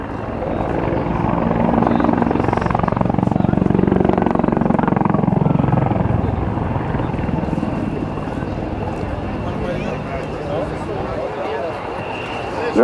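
A CH-146 Griffon helicopter flies a demonstration at an airshow open house, its rotor thudding and turbine whining loud and close, swelling then easing as it passes, with a commentator talking over the public address.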